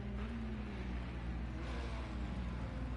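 LMP2 prototype race cars and a BMW in Project Cars 2, racing at Daytona, give a steady engine roar that holds at a constant level for a few seconds with no talk.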